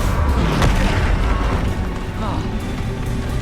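Heavy booming blast from the Bombarda spell in Hogwarts Legacy, a loud low-end explosion with rumbling decay and a second burst shortly after.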